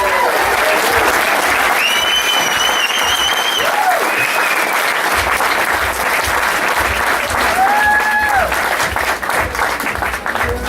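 A large audience applauds steadily at a 2019 heart charity gala night, sustained dense clapping filling the room, with a few faint voices and tonal sounds above it.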